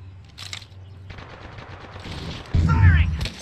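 Gunfire in the battle-royale game Warzone, with rapid automatic bursts and a heavier close volley near the end, loud and punchy over faint game ambience.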